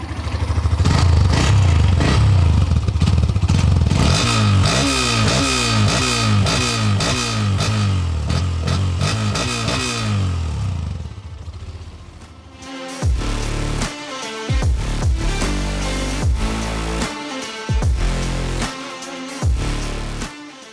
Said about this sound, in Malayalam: സോ നമുക്ക് എക്സോസ് നോട്ട് ഒന്ന് കേട്ട് നോക്കാം